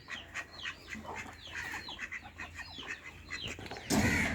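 Chickens and chicks in a village yard, mixed-breed brood peeping and clucking in quick overlapping calls at moderate distance, ending in a sudden louder burst of noise.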